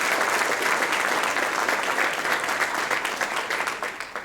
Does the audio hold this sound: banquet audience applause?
yes